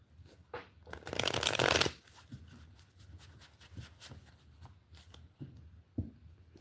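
Tarot cards are shuffled in a quick riffling burst lasting under a second, followed by softer card handling and faint taps in a quiet room.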